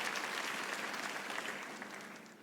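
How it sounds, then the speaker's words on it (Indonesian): A church congregation applauds during a sermon, with even, dense clapping that continues for a couple of seconds before tapering off, heard faintly and at some distance. "Percaya kita tepuk tangan yang paling meriah bagi Yesus Tuhan kita."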